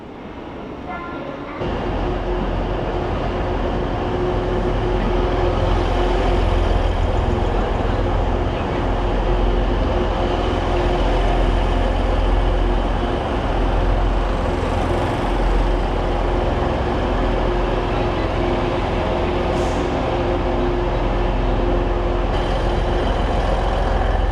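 A TransPennine Express train bound for Manchester Victoria runs steadily, producing a continuous, even rumble with no break for the whole stretch and no one talking.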